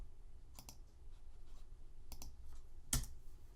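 Computer keyboard key presses in a 3D modelling session, a few sharp isolated clicks spread out over a few seconds, the loudest near the end, with no talking.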